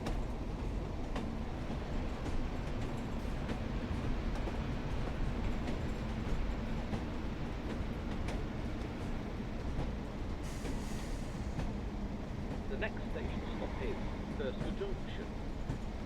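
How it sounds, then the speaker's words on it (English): Rumbling track noise from a Pacer train in Train Sim World 4, running over jointed rather than continuously welded rail on the snowy Blackpool branch lines; a steady, continuous rolling drone lasting throughout, with a voice talking over it. "I just love the track noise as well, because it wasn't continuously welded track."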